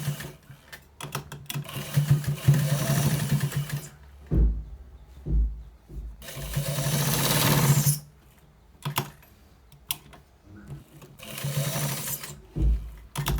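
A sewing machine stitches the waistband of a white trouser, running in rapid whirring bursts separated by brief stops, close and fairly loud with no talk over it.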